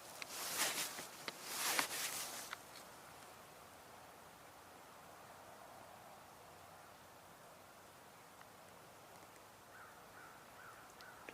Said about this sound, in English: Just heard a crow.